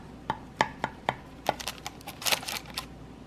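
A cinnamon roll being cut out of the baking pan, sharp clinks and scrapes of a utensil against the pan, a handful of distinct taps spaced unevenly, close and fairly faint.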